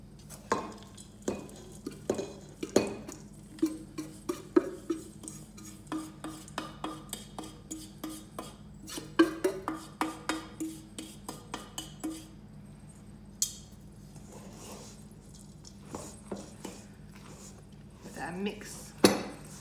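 A spoon stirs a cranberry Christmas pudding fruit mixture in a bowl, with a long run of sharp clinks and scrapes in an irregular rhythm and a quieter pause midway.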